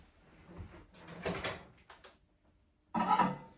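Soft clicks and clunks of a microwave door being handled, followed by a firmer thud as it shuts, fairly close and quiet.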